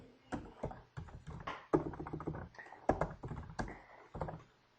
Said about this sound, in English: I can start to write some instructions in here.